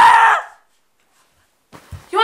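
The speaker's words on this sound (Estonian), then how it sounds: "Ma kuulsin karjumist." A loud scream bursts out at the start and cuts off into silence, followed by faint rustling and the start of a voice.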